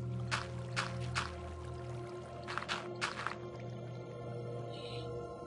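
A bucket scoops up water in the Minecraft video game, heard as several short sloshing, splashing bursts in quick clusters over a steady low hum, moderately quiet and close, with no talking.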